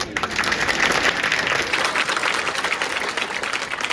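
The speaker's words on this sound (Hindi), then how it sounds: "तालियां बड़ी कम बजी।" An audience claps throughout at a ceremony inaugurating a memorial gate, with steady, dense applause that stays fairly loud and even across the clip and no voices over it.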